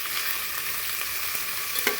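Two spoonfuls of spice masala fry in a pan for a pulse-lentil khichdi, giving a steady hiss with a couple of soft stirring clicks.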